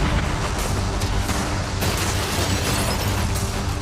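Cannons fire at a yacht during an outdoor challenge event, a dense, continuous roar of blasts and rumble with a sharper burst partway through, loud and close.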